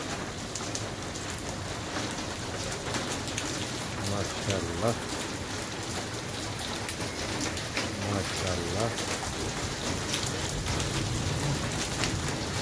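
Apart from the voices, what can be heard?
rain falling at night in Lahore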